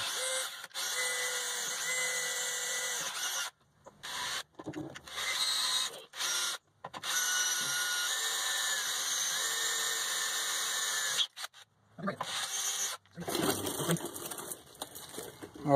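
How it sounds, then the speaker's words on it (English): A drill boring pilot holes into the steel frame of a 1996 Ram 2500 truck, a steady high whine running in long stretches broken by brief pauses, close and continuous. "start drilling out the 2 marks on the frame"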